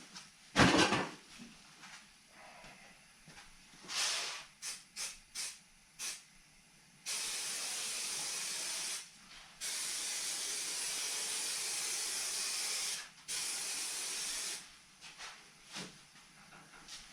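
Spray glue hisses from a can in a few short bursts, then in long, steady sprays of several seconds each, close and fairly loud, separated by brief pauses.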